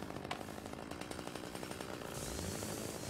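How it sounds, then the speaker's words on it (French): A chainsaw revs in the Luigi's Mansion 3 video game, a steady loud buzzing drone that continues unbroken and swells slightly louder toward the end, with no talking. "Ah, c'est une tronçonneuse."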